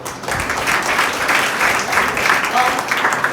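A church congregation at a Palm Sunday service applauds, a dense, steady wash of clapping sustained throughout, fairly loud and close, with no talk over it.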